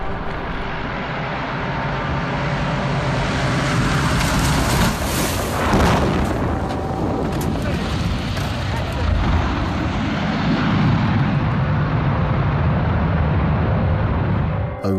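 A small plane comes down hard on a rough landing in Buckland, Alaska, with loud, continuous engine and wind roar, heavy thumps and a jolting burst around the midpoint, and voices faintly under the din.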